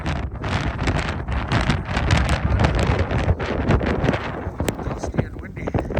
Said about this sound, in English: Dusty and windy.